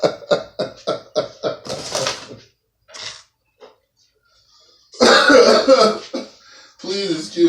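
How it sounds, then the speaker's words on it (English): A burst of rapid, repeated coughs and throat clearing up close, followed by a pause, then another harsh coughing fit. "Please excuse my cough"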